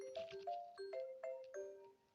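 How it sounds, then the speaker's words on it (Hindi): A phone ringtone plays a repeating melodic chime, several bright tonal notes in a steady pattern, clear and close with no talking. "उसके फोन की घंटी बजती है"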